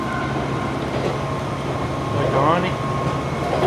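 Steady rumble and whir from inside a moving train carriage with a skateboard rolling along the aisle, voices talking and shouting close by over the continuous noise.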